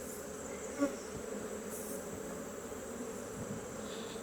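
Agitated honeybees swarm around an opened hive during beekeeping work, a dense, continuous buzzing hum close by, with one brief sharper bump and no talk.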